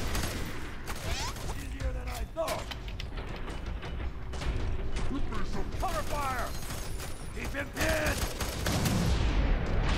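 Gunfire in the first-person shooter F.E.A.R. 3, with repeated shots and mechanical weapon clatter over a continuous game soundscape, while someone talks over the action throughout.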